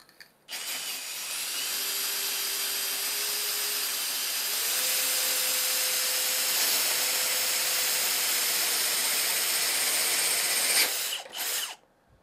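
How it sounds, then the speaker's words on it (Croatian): A Bosch GSB 18V-65 cordless drill bores through hard ceramic tile in one long continuous run, a loud, close, high-pitched grinding whine with slight shifts in motor pitch, stopping abruptly near the end. "kako brzo i lako se izbuši rupa u tvrdoj keramici"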